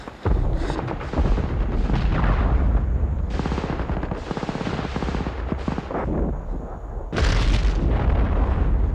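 Grenade blast and battlefield gunfire from the war film Saving Private Ryan, loud booming explosions and rattling shots in bursts, with a heavy impact near the end and no speech.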